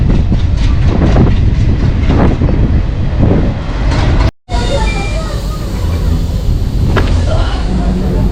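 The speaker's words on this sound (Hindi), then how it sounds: "ये ट्रेन मंडपम में रुकी है" A train on the Pamban bridge route pulls into Mandapam station, with loud rumbling wheels and clickety-clack on the rails, close by, then a brief cut and a quieter, steady rolling rumble.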